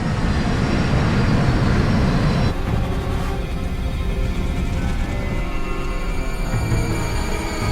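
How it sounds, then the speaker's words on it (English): A Crossair Flight 3597 jet airliner on approach, slowing and descending steeply: a steady, loud engine and airflow roar that holds throughout, with a shift in tone partway through and no voices. "begins slowing the jet and puts it into a steep descent"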